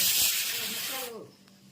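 Kadhi tempering sizzling in hot oil in a home kitchen, a loud broadband hiss that cuts off abruptly after about a second, leaving faint background noise and a brief voice-like tone.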